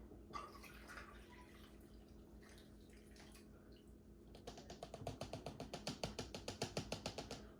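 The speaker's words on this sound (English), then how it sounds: "I'm gonna pour it into my strainer." Herbal bitters liquid poured through a strainer: a soft trickle at first, then a rapid rhythmic run of close dripping and splashing that grows louder toward the end, with no talking.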